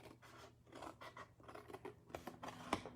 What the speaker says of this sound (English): I'm just going to make a snip up to the first score line.